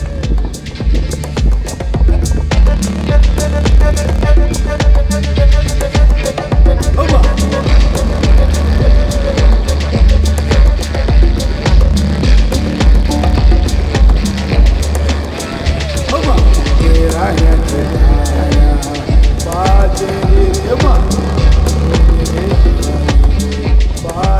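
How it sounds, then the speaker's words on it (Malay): Lorries passing on a Malaysian road between Mersing and Kuantan, heard from a bicycle as a loud, constant rumble with throbbing engine and wind noise that holds for over twenty seconds. "Banyak juga aku tengok lori lalu dekat sini."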